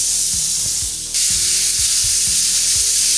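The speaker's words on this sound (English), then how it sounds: "Now we can move on to cooking the meat." Burger meat frying in a hot pan without added oil, a loud close sizzle and hiss that runs throughout, punctuated by repeated low thumps of the meat being worked in the pan.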